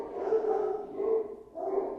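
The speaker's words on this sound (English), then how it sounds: "please ignore the dogs." Dogs barking somewhere in the background during a physics lecture. The barks are moderately loud and come as a few sustained, howl-like bursts across about two seconds, with no speech over them.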